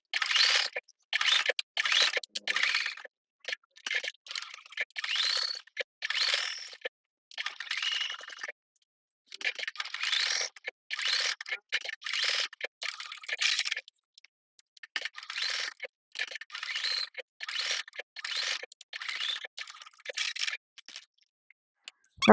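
A sewing machine stitches quilt block seams slowly, running in short bursts of fast needle clatter separated by brief pauses, close and clear with no talking.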